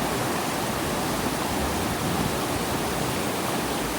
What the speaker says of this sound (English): you have water that's trickling off here to the side